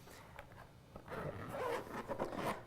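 The zipper on a Philips HeartStart HS1 AED case is drawn open in a couple of quick, rasping pulls, close by and fairly quiet, with no one talking.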